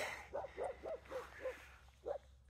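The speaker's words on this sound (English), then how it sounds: "attacked by five dogs." Dogs on a roadside in Peru bark in a run of six short, faint yelps spaced about a third of a second apart, sounding somewhat distant.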